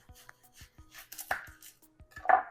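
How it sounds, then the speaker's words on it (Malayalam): An onion is chopped with a knife on a board in quick, close, irregular taps, about a dozen cuts in rapid succession. "ഇനി നമുക്ക് വേണ്ടത് കുറച്ച് സവോളയാണ്. നമുക്കൊന്ന് അരിഞ്ഞെടുക്കാം."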